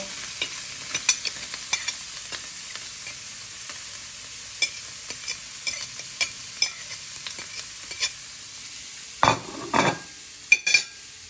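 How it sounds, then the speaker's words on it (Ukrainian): Grated beets for borscht tossed into a hot frying pan, a steady soft sizzle with scattered stirring ticks, then a few louder scraping clatters near the end, close and without talking. "Ми закидаємо наших бурачок."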